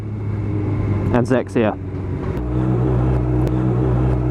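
A car engine revs loudly and steadily nearby, its tone shifting slightly, while a person speaks briefly over it partway through.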